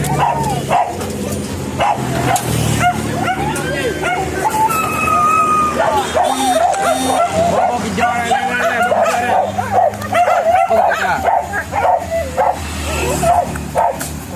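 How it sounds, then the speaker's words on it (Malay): Several hunting dogs bark and yip excitedly during a wild boar hunt in West Sumatra, some howling and whimpering, close by with people talking over the commotion throughout. "Kita kumpul anjing kita sada dulu."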